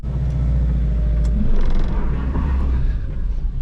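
Suzuki Vitara 4x4 with a 1.9 diesel engine straining to climb a slope off-road, a steady loud low rumble throughout with a slight surge midway, heard up close.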